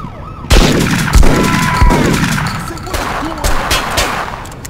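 Gunfire in the 25 to Life video game: repeated loud sharp shots and bursts from several directions amid a dense, chaotic firefight, with siren-like tones wailing in the mix.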